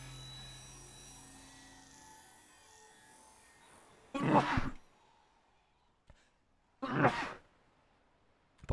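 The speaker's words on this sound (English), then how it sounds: "Apart from the sneezes, that was amazing" Two loud, abrupt sneezes about three seconds apart, each a short bright burst standing alone against a quiet background, heard while playing the survival game Ark Survival Ascended.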